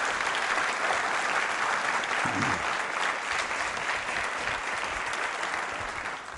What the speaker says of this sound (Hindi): आइए तालियां बजाई इन सभी के सम्मान में